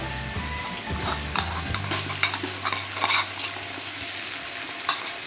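Onions frying with garlic and ginger paste in a pan for chicken pulao, a steady close sizzle with scattered light stirring clicks and scrapes throughout, with a low hum underneath.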